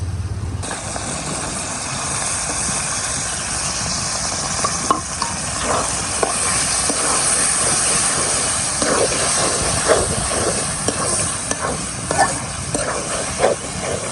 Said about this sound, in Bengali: এখন এই যে আগে থেকে সিদ্ধ করা জগাটা দিয়ে দেবো